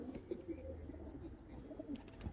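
Amasha breed pigeons coo softly at a rooftop loft in Lalbagh, Dhaka, low repeated throaty calls that sound faint and close against quiet background noise.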